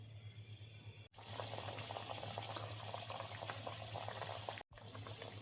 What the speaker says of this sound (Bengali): এবার দেখো চপগুলো এক এক করে দিয়ে দিচ্ছি।